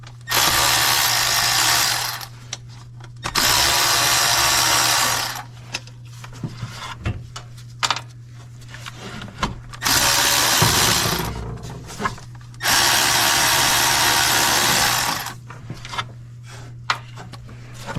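A power tool runs in several long bursts on the engine bay of a Mercedes / Dodge Sprinter 3.0L van while a bracket is taken off, with quieter pauses, clicks and handling noises in between and a steady low hum throughout.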